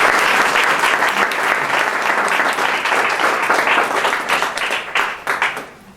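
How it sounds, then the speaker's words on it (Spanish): An audience at a formal academic presentation gives a speaker a loud, sustained round of applause, the dense clapping rolling on steadily before thinning into scattered claps near the end. "Bien, recibamos con un fuerte aplauso"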